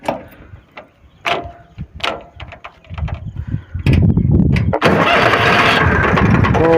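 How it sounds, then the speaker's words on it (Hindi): A tractor, just repaired after an accident, is started up. Clicks and cranking lead into the engine catching and settling into a loud, steady running roar, close by, with no talking. "तो अभी हम ट्रैक्टर को स्टार्ट कर लेते हैं।"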